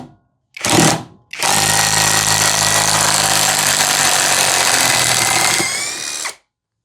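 A Hanabi LJ2022 impact driver gives a short burst, pauses, then runs for about five seconds driving a screw, a loud, close, steady whirring hammer that stops abruptly.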